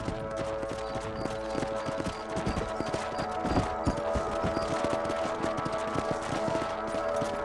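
Steady, rhythmic horse hoofbeats clip-clop continuously, like horses trotting in the video game Red Dead Redemption, with a constant ambient hum underneath and no talking.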